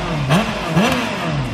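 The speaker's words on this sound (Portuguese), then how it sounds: "ó o barulho feio que a moto tá fazendo, mano" A Honda Hornet motorcycle fitted with a modified, straight-pipe exhaust revs loudly and close up, with two sharp throttle blips rising and falling over a rough, rasping idle.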